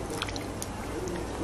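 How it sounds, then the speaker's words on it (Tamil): Tamarind being squeezed by hand in water to dissolve the pulp, giving soft wet squishing and faint dripping, close and steady, with no talk. "நல்லா புளி தண்ணி இந்த மாதிரி நல்லா கரைச்சிட்டு நல்லா தூசியெல்லாம் இல்லாம நம்ம வடிகட்டி எடுத்துக்கலாம்"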